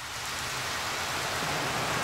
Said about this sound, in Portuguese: Debaixo de chuva, uma noite bem chuvosa aqui no continente asiático.